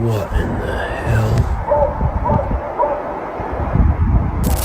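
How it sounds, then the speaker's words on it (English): A dog barks and yips close by in the woods, with short repeated bursts and whimpery calls, while people talk excitedly over it and an odd louder noise sounds from another source. "A dog can be heard nearby along with another source producing loud, unfamiliar noises"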